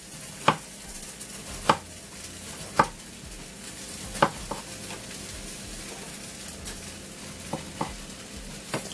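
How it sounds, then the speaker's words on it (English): A knife chops through a tomato on a board in sharp, separate knocks spaced unevenly, a few louder strikes standing out over faint kitchen background. "finish up with cutting the tomato"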